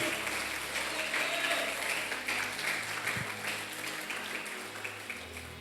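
A church congregation applauds during a Sunday service, a dense steady wash of clapping that sounds broad and moderately distant, with a low hum and faint voices beneath it.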